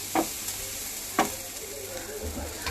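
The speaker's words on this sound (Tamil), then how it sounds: "நம்ம வந்து அதை நல்லாவே வதக்கிடலாம்" Spices sizzle steadily in a hot pan for idli upma, with a few sharp scrapes of stirring breaking through the frying.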